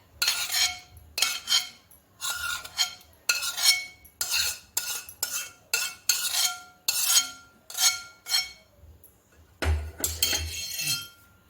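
A spoon stirs mango puree into an ice cream mixture, clinking and scraping against the bowl in a quick series of about a dozen close, rhythmic strokes with short pauses between; no talking.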